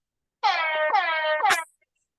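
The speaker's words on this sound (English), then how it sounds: "got us a hype button and it makes the club horn sound" A hype button plays a club air horn: one loud blaring blast of about 1.3 seconds, pulsing in three quick surges, with near silence around it.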